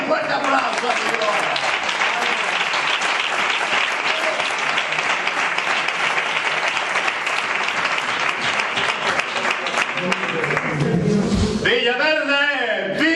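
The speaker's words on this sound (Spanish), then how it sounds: "Dale un fuerte aplauso a Dios." A church congregation in Villaverde claps loudly and steadily for God during a Spanish evangelical service, a dense wash of applause that fades near the end as a voice begins speaking.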